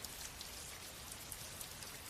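Steady rain falls in a continuous soft hiss, with scattered drops ticking on a surface, even and uninterrupted with no voices.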